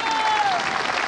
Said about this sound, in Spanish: ¡Fuertes aplausos, Río Bueno!